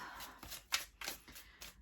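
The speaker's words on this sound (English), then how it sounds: "We'll just shuffle for a while" Playing cards are shuffled in quick, soft riffling bursts, a faint papery flutter repeating several times.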